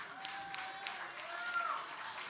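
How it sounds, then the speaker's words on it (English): Applause from an audience at a live folk band competition evening, a steady, fairly faint wash of clapping that holds evenly throughout. "Give them a round of applause."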